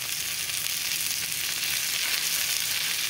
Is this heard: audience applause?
no